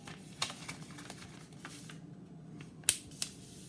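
Paper is folded by hand to make a paper boat, giving soft close crinkles and creases with a few sharper snaps, one crisp one near the end.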